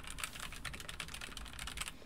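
Quick, steady typing on a Logitech MX Mechanical Mini keyboard, soft tactile key clicks in a rapid even run, close and fairly quiet.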